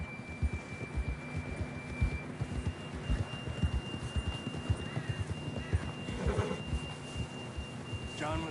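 Horse hooves in a Western video game, a steady rhythmic clip-clop of a horse moving at pace, close and continuous, over a low hum, with faint voice-like sounds near the end.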